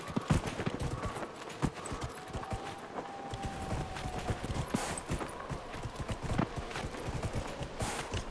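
A horse's hooves clip-clop steadily in Dragon Age Inquisition's Forbidden Oasis desert, close and fairly loud, with a brief neigh-like call in the middle.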